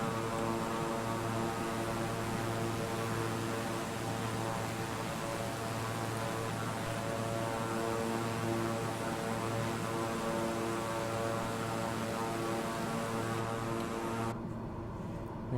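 King Air 350i turboprop engines in Microsoft Flight Simulator, a steady loud propeller drone with a constant harmonic hum throughout, throttled back slightly on approach, with the upper hiss cutting out near the end.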